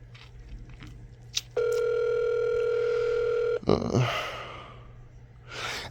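A telephone line sounds one long, steady tone while the call goes unanswered, followed by a sigh and some rustling nearby.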